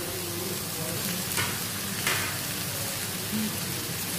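Chopped onions frying in oil in a pan for tawa keema, a steady broadband sizzle throughout with a couple of brief louder spits, no talk.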